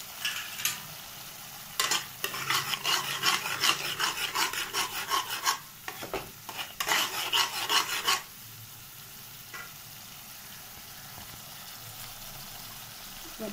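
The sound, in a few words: stirring and frying spice paste with chili powder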